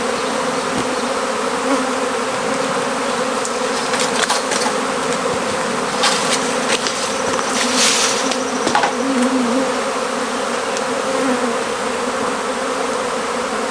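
A swarm of honeybees clustered on a tree limb on a farm makes a dense, continuous buzzing drone, loud and close, with individual bees whizzing past now and then.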